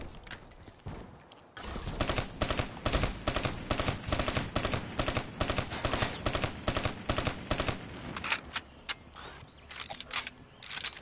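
The XO2 firing on auto burst in a Call of Duty game rattles out as a loud, dense string of rapid gunshots, with a brief lull before it and faster, choppier bursts near the end.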